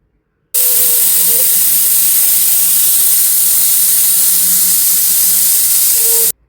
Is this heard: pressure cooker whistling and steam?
yes